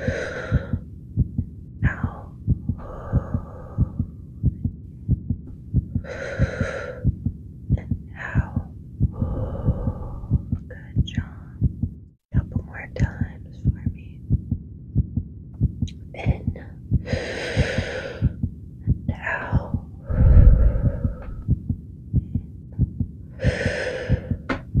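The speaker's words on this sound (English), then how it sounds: "Listen to your heart like this." A steady, close heartbeat throbs in a regular low rhythm for the whole stretch, with faint breathy whispering drifting over it in an ASMR setting.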